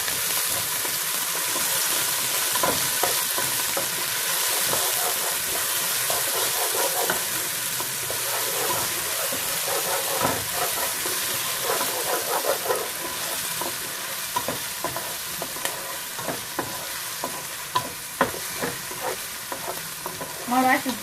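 Onions, half a red or white one, frying in a pan for lamb curry, giving a steady close sizzle with scraping stir strokes and small clinks throughout.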